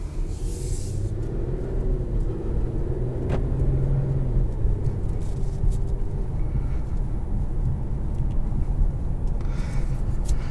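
A 2022 Infiniti Q60 with a 3-litre twin-turbo V6 drives at night, heard from inside as a low, steady engine and road rumble with tire noise, constant and unbroken, with no voices.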